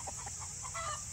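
Chickens clucking in a coop pen where recently hatched young birds share space with older hens and a rooster, a steady scatter of soft clucks over a constant background hum.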